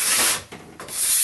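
A sharp scraper shears cold-snow wax off a Nordic ski on a workbench, making two rasping strokes close up with a brief gap between them.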